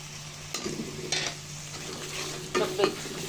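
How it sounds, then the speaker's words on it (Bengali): Chicken masala with sour yogurt being stir-fried in a pan, a soft continuous sizzle broken by a few distinct spatula scrapes and clinks against the pan. "টক দইটা দিয়ে ভালো করে কষিয়ে নেব"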